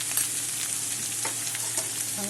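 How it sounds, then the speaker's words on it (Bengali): Ash gourd pieces and a spoonful of salt go into a hot frying pan, giving a steady close sizzle with faint scraping stirs throughout, no talk. "দিয়ে দিলাম চাল কুমড়ো, দিলাম 1 চামচ লবণ।"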